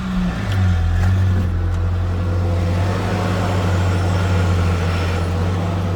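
A 2007 Ford Ranger engine idles steadily after starting, its low, even rumble loud and close throughout with no talking.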